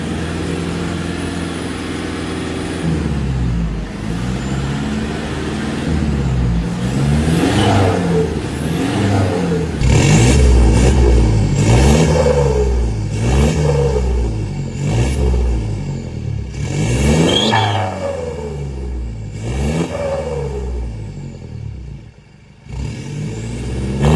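A Toyota Hilux VNT turbo diesel fitted with a full-system exhaust revs repeatedly, loud and close, each throttle blip rising and falling over a rumbling idle with no talking.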